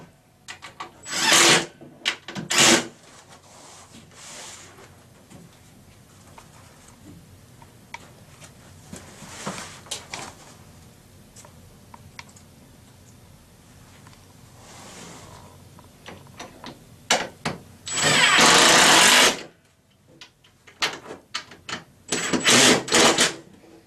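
Screws being driven tight while assembling a base cabinet: bursts of loud whirring and rattling, short and long in turn, with quieter stretches of handling noise between them.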